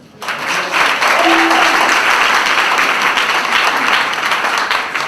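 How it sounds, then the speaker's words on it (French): A church congregation breaks into loud, sustained applause to acclaim the Lord, a dense wash of clapping that starts abruptly and keeps going steadily for several seconds. "Acclamons le Seigneur"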